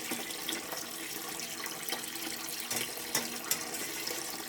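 Cooking liquid from steamed home-grown beets and purple potatoes being poured off, a steady close splashing stream with a few brief louder spatters, no talk.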